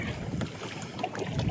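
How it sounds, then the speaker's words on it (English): Gusty wind blowing across open water during kayak fishing, a steady broadband rush buffeting the microphone with low rumble throughout, loud and close with no voices. "The wind just all of a sudden picked up like crazy"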